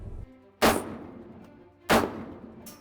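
Two loud, close rifle shots ring out about a second apart during a hunting competition, each with a short echoing tail.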